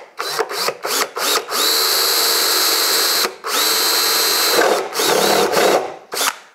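Step drill bit (unibit) boring a hole through fiberglass on a 1965-66 Mustang race apron, a loud close whining grind in several bursts, two of them sustained, separated by short stops.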